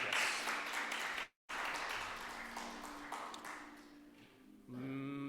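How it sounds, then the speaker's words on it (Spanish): An audience applauds at a literary book reading, the clapping steady but faint, broken by a brief dropout and fading into a tonal hum near the end. "Fuerte aplauso para José Luis"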